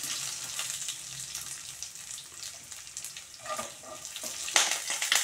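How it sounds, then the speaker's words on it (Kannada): Crushed sprouted beans tumble into a pan of fried onions for a sambar, giving a steady broadband sizzle with soft stirring scrapes and a brighter burst of frying near the end, no voices. "ಜಜ್ಜಿಟ್ಕೊಂಡಿರೋಂಥ ಉಸ್ತಿಕಾಳನ್ನ ಹಾಕ್ತಾ ಇದ್ದೀನಿ."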